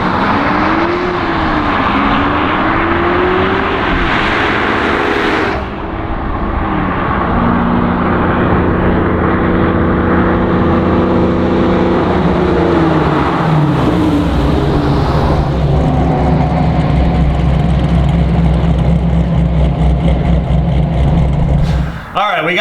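A 2004 Pontiac GTO with its factory brakes passes at about 70 mph and then brakes hard. The loud engine drone rises and falls in pitch as the car goes by, then settles into a steady lower hum.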